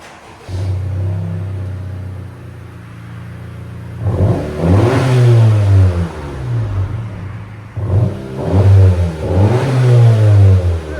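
A 2020 Honda Civic Sport with a 2.0L turbo engine, resonator and muffler removed, revs in two loud bursts. The deep engine drone rises and falls without anyone speaking.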